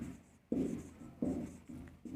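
Handwriting in Hindi during a grammar lesson: a pen or chalk scratches in four short strokes, separated by brief pauses, soft and close, with no voice over it.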